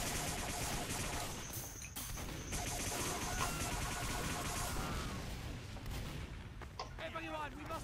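Dense, continuous gunfire and explosions fill a Team Fortress 2 match, loud and overlapping throughout, with sharper bursts near the end.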